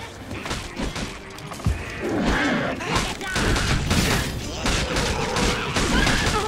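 A volley of bow fire in a fantasy battle video game, a dense clatter of overlapping thuds and impacts mixed with the noise of combat, with voices shouting over it.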